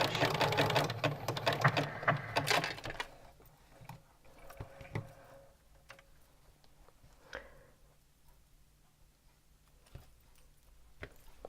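A sewing machine back stitches fabric bunting in a short, busy burst at the start, then falls quiet apart from scattered soft ticks and clicks.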